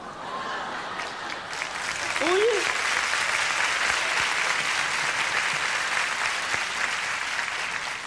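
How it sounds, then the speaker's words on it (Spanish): Steady audience applause fills a studio comedy show, a brief exclamation and a little laughter at the start before the clapping swells and holds evenly throughout. "¿Y todavía lo aplauden ustedes a este hombre?"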